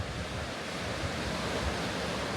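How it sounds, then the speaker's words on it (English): Waves washing steadily against the shore of the St. Lawrence River, a continuous broadband rush with wind noise on the microphone, fairly loud and close with no distinct breaks. "you might hear the waves, is not an ocean, that's the St. Lawrence River"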